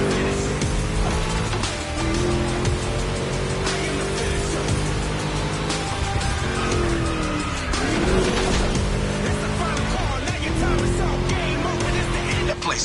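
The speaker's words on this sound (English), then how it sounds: "Just listen to that V8 like a chunky, down-tuned guitar riff." A V8 engine drones steadily through a race in the video game The Crew Motorfest, its deep note rising and dipping with gear changes and throttle over a continuous loud rumble.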